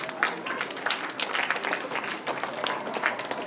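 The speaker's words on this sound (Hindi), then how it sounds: "यस जोरदार तालियां सभी" Applause from the audience at an interschool karate championship in Gurugram: dense, steady clapping from a crowd that holds at an even level throughout, with a few sharper claps standing out near the front.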